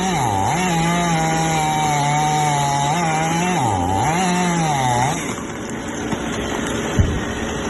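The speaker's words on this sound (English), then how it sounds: "The chainsaw slices through the tree base with precision" A long-bladed chainsaw cuts through the base of an uprooted tree in a large garden, its engine whining loud and close with rising and falling pitch as it bites the trunk, then dropping to a rougher, quieter run near the end.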